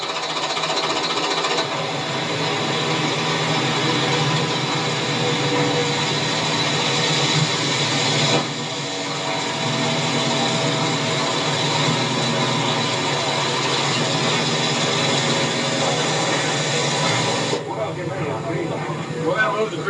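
A steady, rattling all-original old International Harvester light truck engine idles close by, continuous and loud with a mechanical clatter, while a person talks over it, at a 1992 IH Scout and Light Truck Nationals show.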